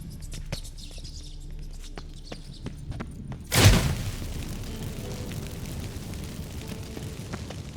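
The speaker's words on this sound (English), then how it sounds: "Get ready for some magic fireworks." A magic fireworks effect in The Witcher 3 sets off a single sharp, loud burst midway, followed by a crackling, fizzing tail over quiet game ambience.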